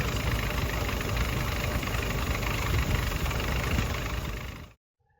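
The engine of a 1946 Willys CJ2a jeep, revived after sitting in a forest for over 40 years, idles loudly and roughly with a constant rumbling chug, then cuts off abruptly near the end, leaving near silence.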